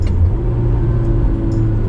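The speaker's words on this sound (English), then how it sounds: "go into 4th gear, and then I'm gonna rev match into 3rd gear" A manual car engine blips and hums low as the driver rev-matches a downshift from fourth to third gear, a close, steady rumble with a short rise in revs.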